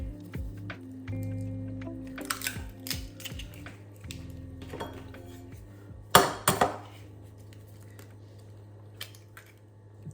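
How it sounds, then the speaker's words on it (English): Two eggs cracked against a bowl's edge for salmon patties, with sharp brief cracks around the middle and a soft wet drip of contents into the bowl, over a steady low kitchen hum. "So we're just gonna crack those egg."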